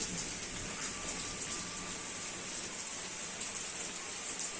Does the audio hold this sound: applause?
no